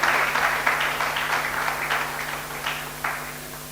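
An audience at a comedy and poetry stage show claps in scattered bursts under a steady electrical hum, the clapping uneven and moderately near.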